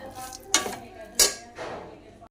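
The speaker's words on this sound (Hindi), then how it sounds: "अच्छे से मिक्स कर देंगे इसे।" Carrot halwa with almonds stirred in a pot, a few scraping clanks of a spoon against the metal rim amid soft shuffling, three distinct strokes close by.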